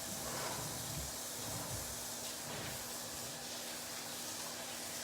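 Water runs steadily from a tap during handwashing, a faint continuous hiss and splash with no voices over it.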